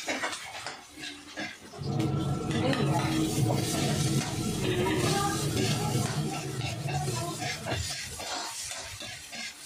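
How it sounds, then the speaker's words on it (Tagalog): Garlic sautéing in a pan for Filipino ginataang gabi (laing), a steady loud sizzle beginning after about two seconds and carrying on with occasional stirring and utensil clinks, no talking. "Magigisa na tayo ng bawang."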